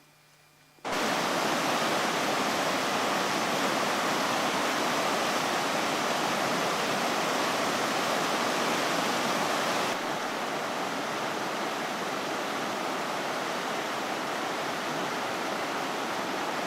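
Collins Creek rushes in a loud, continuous, broadband roar that begins abruptly and stays steady, with a slight shift in tone partway through and no voices.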